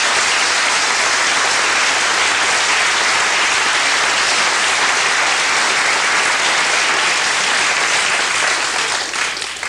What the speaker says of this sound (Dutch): Mag ik een hartelijk applaus voor haar?